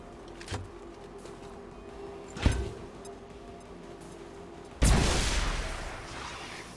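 A frag grenade thrown and detonating in XCOM 2 Long War of the Chosen: a brief thump, then a loud burst with a rushing, crackling decay trailing off for about two seconds near the end.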